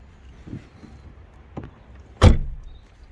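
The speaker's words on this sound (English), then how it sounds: "I reckon I can close this door without even getting out of it" After a couple of soft knocks and shuffles, a Vauxhall Nova's car door slams shut from inside with a single loud, solid thump close by.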